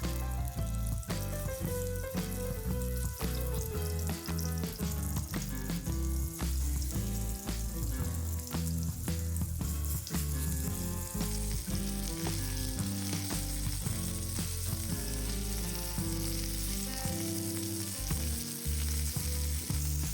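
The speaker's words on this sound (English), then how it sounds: "Cook the ready burgers on a hot grill pan or in hot oil." Chicken burgers fry on a hot grill pan with a steady, dense sizzle that carries through the whole stretch. Background music plays over it at an even level, and nobody speaks.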